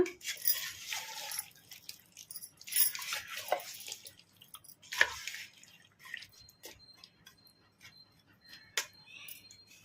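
Mango pickle being mixed by hand with oil in an Andhra-style preparation, giving soft wet squishing and dripping sounds in irregular bursts, fairly close and quiet, with no talking.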